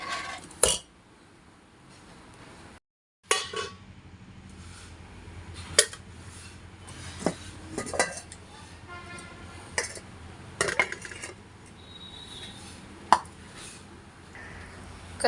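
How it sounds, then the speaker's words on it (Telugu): Cooking pots and dishes are gathered up and cleared away after a meal, with scattered sharp clanks and clatters of steel vessels at irregular intervals, close by against a quiet household background. "ఇంక ఇది కూడా తీసేసి గిన్నెలన్నీ వాష్ చేసేస్తాను నేను బయట పెట్టేసి."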